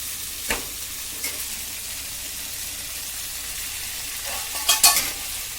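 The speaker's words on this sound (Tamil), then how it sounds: "மொச்சையை போட்டு அதையும் நல்லா வதக்குங்க" Field beans sautéing in a pan for a brinjal and bean thokku, a steady soft sizzle with a few sharp scraping stirs of the spoon, the clearest clatter near the end, no talking.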